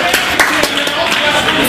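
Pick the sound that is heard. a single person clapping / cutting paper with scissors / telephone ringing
a single person clapping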